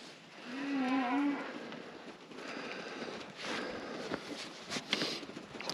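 Cattle on a ranch during sorting of cow-calf pairs in the corrals: one clear low moo near the start, followed by a fainter call and a steady background of shuffling, hoof clatter and general livestock noise at moderate distance.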